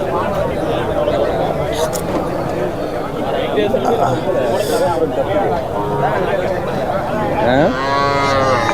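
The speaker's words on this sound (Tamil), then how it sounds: "அந்த பக்கம் மாடுகள்லாம் வந்து நிறைய கட்டி வச்சுருக்காங்க." Native cattle moo repeatedly at the large Madrapalli livestock fair in Tamil Nadu, loud and close, over a busy crowd murmur and nearby voices.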